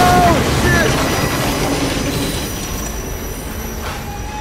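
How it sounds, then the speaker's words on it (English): A train rolls past in the open-world game Assassin's Creed Unity, a broad rumbling wash with a brief high wheel squeal near the start, loud at first and easing off slightly as it goes by. "Damn trains."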